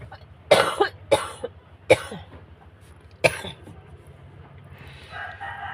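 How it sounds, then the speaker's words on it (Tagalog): Four harsh coughs ring out over a few seconds, loud and close, followed by quieter background noise. "Hindi ko makontrol itong ubo ko."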